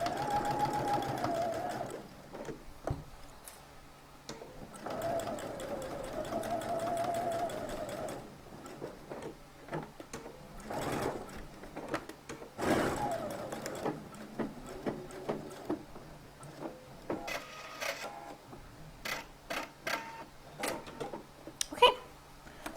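A sewing machine stitches a shirt collar in bursts, its fast mechanical whir starting and stopping with clicks and handling noises between runs, close and fairly quiet.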